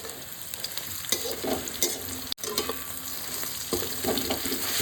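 Onion, crushed garlic and spices are stir-fried in a pan for a pointed gourd and prawn curry, with a steady close sizzle broken by repeated scraping stir strokes and brief clatters, and no talk.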